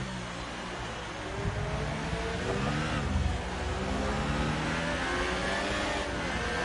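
A race car engine in a racing video game, revving hard under throttle with rising and falling pitch, loud and continuous throughout.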